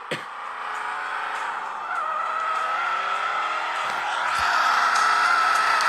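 A car driving fast in the video game Turbo Dismount, a sustained high engine whine with tire screech that grows slightly louder over several seconds, punctuated by a few brief thuds.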